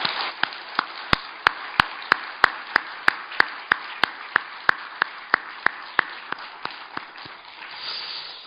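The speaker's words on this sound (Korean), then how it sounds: "우리 하나님께 영광의 박수를 올려드리겠습니다" A church congregation applauds, with sharp, evenly spaced claps ringing over a dense wash of hand-clapping for several seconds before the rhythm loosens and fades.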